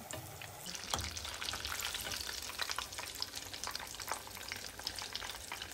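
Potato chicken cheese balls fry in hot oil over medium heat, a steady dense sizzle with crackling pops throughout, close and continuous, with occasional stirring clatter and no talking.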